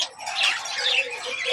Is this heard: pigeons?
yes